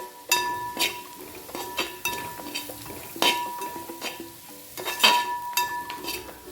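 Homemade masala being stirred into chicken in a pan with coconut oil, a spoon repeatedly clinking and scraping against metal in an uneven rhythm over a faint sizzle.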